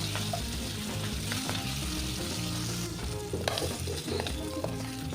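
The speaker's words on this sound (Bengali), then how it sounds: "মাছের এক সাইড আমার ভাজা হয়ে গেছে এবার মাছগুলোকে আমি উল্টে নেবো" Singhi fish pieces, flipped once, sizzle and crackle steadily in hot oil in a pan, a dense close frying hiss with scattered pops and occasional clinks, no voices.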